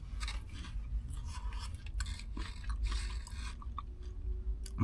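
Crunchy fries from an Australian kebab shop meal in Brisbane being chewed close up, with steady crisp crunching and rasping bites through the whole stretch and no talking.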